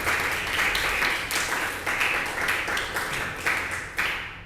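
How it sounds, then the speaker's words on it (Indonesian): Classroom applause for student presentation group 1, a steady patter of many hands clapping at once, moderately close and continuous throughout with brief swells. "kalau begitu beri aplaus untuk kelompok 1"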